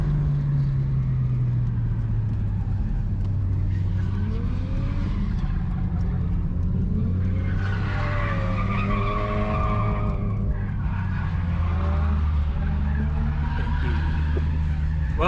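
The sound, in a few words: race car tyres skidding and smoking during run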